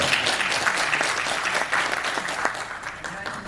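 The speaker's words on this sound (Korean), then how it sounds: "여러분 힘찬 박수로 응원해주시기" A symposium audience bursts into loud, dense applause as the final debate speaker on foreign policy is introduced, many hands clapping steadily and close throughout.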